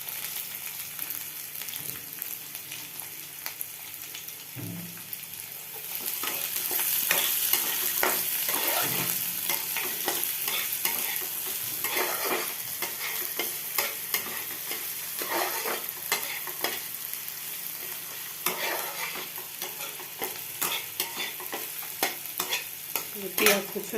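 Chopped onions fry in a pan while being stirred, a steady sizzle that swells after the first few seconds, punctuated by repeated scraping and knocking strokes of the spoon, close and with no voices.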